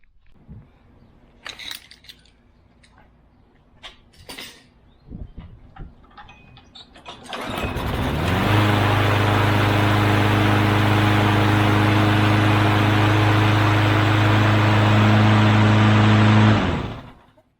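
A lawn mower engine starts after its carburetor was cleaned: a few scattered clicks and rattles of handling, then the engine catches around eight seconds in and runs at a loud, steady drone until it cuts off near the end.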